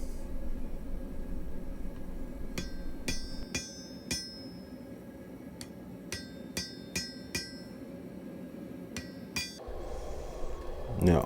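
Sharp metallic blows of a flat-face hammer drawing down a steel bar on an anvil, a dozen or so strikes in uneven bursts over a steady low hum, each with a bright lingering ring.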